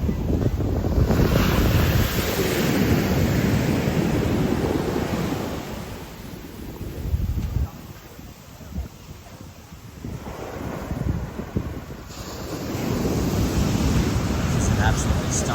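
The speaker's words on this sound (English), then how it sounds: "This is an absolutely stunning beach." Surf rolls and breaks on a beach in Guadeloupe, a steady wash of waves with wind buffeting the microphone, swelling loud, easing around the middle, then building again.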